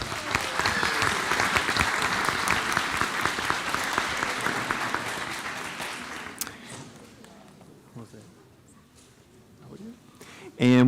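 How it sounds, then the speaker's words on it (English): An audience at a school board meeting applauds student performers, dense clapping for about six seconds that thins out and fades, with scattered claps and a voice near the end. "So let's give the micro school students a round of applause."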